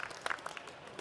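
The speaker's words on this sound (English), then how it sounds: "how about we give these guys a big round of applause?" Applause and murmuring from an audience at a fishing show seminar on bluefin tuna, brief and fairly faint, heard from across a room.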